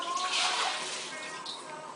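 Brine water drains and splashes from a container of soaking rice, a close, moderately loud rushing pour that swells early and then gradually tapers over two seconds.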